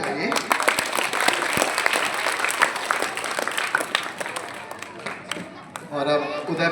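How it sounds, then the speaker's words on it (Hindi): Lively clapping from an audience welcoming guests at a public school ceremony in India, dense and continuous at close range, with voices chattering beneath and a few louder claps standing out. "सर ताली भी बजाइए"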